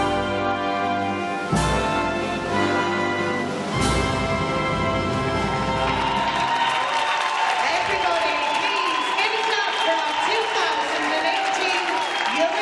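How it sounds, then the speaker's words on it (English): Audience applause for the Russian synchronized 3 m springboard divers at the 2018 European Championships in Glasgow, a steady crowd clapping that swells partway through amid music and arena noise. "Now the Russian team applauding their 2 stars"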